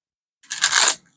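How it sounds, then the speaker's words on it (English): A deck of tarot cards is shuffled once, a short crisp riffle of about half a second, close and fairly loud after a moment of silence. "I'm going to shuffle a couple of times."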